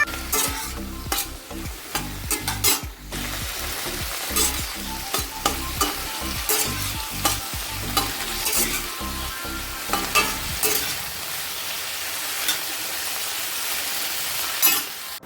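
Fried rice sizzles steadily in a hot pan while a utensil scrapes and stirs it in quick, repeated strokes that stop near the end, leaving only the frying hiss.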